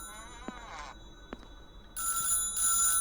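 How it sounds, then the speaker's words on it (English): An old-style telephone bell rings in two loud bursts inside the video game PAST - Mists of Aiden, following a few faint clicks and small knocks in a quiet room. "The phone?"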